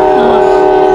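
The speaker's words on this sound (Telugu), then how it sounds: "చాలా రోజులైంది ట్రైన్ సౌండ్." A train horn at Stone Mountain Park sounds as a sustained, loud, steady tone lasting about a second, close and with no voices.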